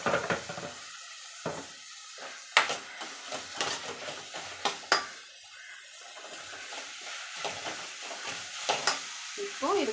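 Tomatoes sauté in a cooker pot for dum biryani, giving a soft intermittent sizzle punctuated by sharp spoon scrapes and clinks against the metal, close by and uneven.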